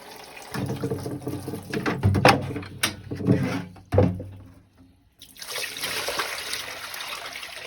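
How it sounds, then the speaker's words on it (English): Rinse water is dumped from a bucket of a homemade laundry washer, splashing and pouring out in a few heavy gushes, followed by a steady running, trickling wash of water nearby. "I'm going to go ahead and dump this out."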